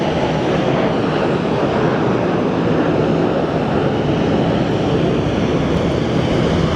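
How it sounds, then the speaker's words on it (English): A SkyWest aircraft, flight 3188, departing for Durango from Phoenix Sky Harbor, a loud, steady broadband jet roar that fills the whole stretch without pause or voices. "up next we have SkyWest 3188"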